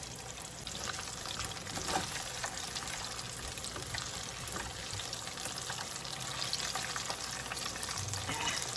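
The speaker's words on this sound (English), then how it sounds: "Place it in that grease. Let it fry." Beer-battered onion rings fry in hot oil with a dense, steady sizzle and crackle that holds at a constant level, punctuated by occasional faint stirring or dripping sounds, without any talking.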